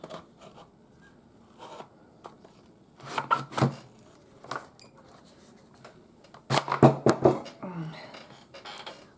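A handheld vegetable slicer working on a carrot and failing to cut it, with close, irregular bursts of scraping, knocking and clattering separated by quieter pauses.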